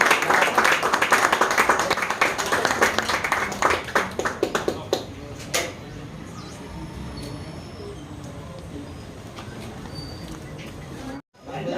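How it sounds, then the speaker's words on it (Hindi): Clapping from an audience at a prize distribution function, dense hand claps for about five seconds that thin into a few scattered claps and then fade into quiet room murmur. "जोरदार तालियां हो जाए"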